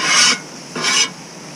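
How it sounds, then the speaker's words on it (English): Metal griddle scraper dragged twice across a grill griddle to lift stuck sugar, two close, loud rasping strokes separated by a short pause, with no talk. "Here's that scraper. I got some sugar over there, so we'll pull that up."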